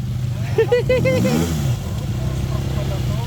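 Four-stroke motorcycle engine revving on a rocky trail, a throaty rising-and-falling rev heard up close under loud, excited talk and voices.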